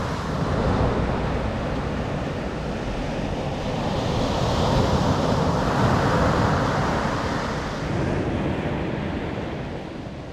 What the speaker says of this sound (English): I'll leave you now with these peaceful ocean waves.